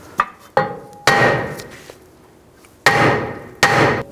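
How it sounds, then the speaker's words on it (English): A hammer strikes a stuck rear brake rotor on a 2010-2016 Cadillac SRX, five sharp metallic blows at irregular intervals, each ringing briefly before decaying, close and loud with no talking. "If it's stuck on, you can take a hammer and just hit in these locations."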